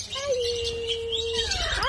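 Parrots at Malagos Garden Resort in Davao City give a long whistled call and rising and falling squawks. They sound fairly near, over low background murmur and voices.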